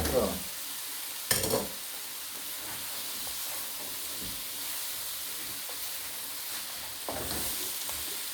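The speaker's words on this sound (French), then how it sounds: "Je les fais revenir avec l'oignon et l'ail." Potatoes frying with onion and garlic in a pan, a steady close sizzle and hiss with a few clattering stirs.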